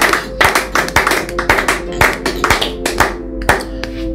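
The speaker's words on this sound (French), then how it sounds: "Est-ce qu'on peut acclamer le Seigneur, les hommes de Dieu?" A church congregation at a family prayer gathering claps hands in a steady, loud rhythm of repeated beats to acclaim the Lord, with a constant background hum and a few voices under the clapping.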